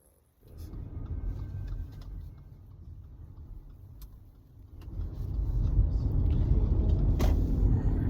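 A car drives onto a freeway on a Sunday night, its steady engine and road rumble building from a quiet start and swelling louder as it picks up speed, with no talking.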